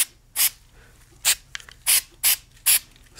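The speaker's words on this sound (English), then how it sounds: "Once you get it sprayed down, everywhere you want to spray it down, cock back the hammer, spray down in the mechanism." Gun lubricant from an aerosol can is sprayed into a revolver's open mechanism with the hammer cocked back: five short, sharp hissing bursts spaced about half a second apart, close and loud in a quiet room.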